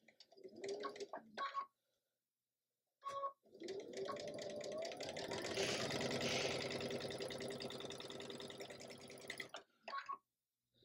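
A home sewing machine chain stitching quilt block pieces runs in one steady, moderately loud whir of about six seconds, flanked by brief mechanical clicks and short bursts of machine noise with pauses between.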